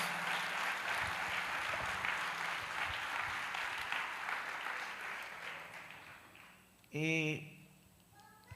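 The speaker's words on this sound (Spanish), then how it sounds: "¿Usted se puede dar un aplauso por eso?" A church congregation in Tucumán, Argentina, gives a long round of applause during a morning service, fading gradually, followed by a brief tonal sound near the end.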